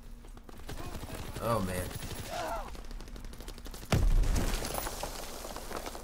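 Gunfire from the World War II shooter game Call of Duty WW2, including a Springfield sniper rifle, with a loud sharp burst near the middle over continuous game noise while someone talks.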